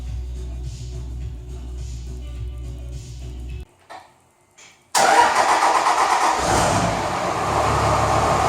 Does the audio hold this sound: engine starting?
yes